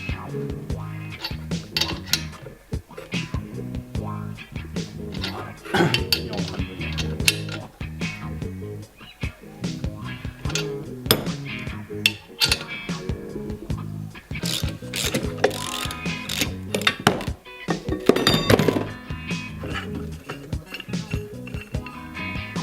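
An OTC hydraulic press is ratcheted repeatedly to force a stud out of a Jeep front axle stabilizer link, giving irregular metallic clicks and clunks over a long stretch with some sharper creaks and pops.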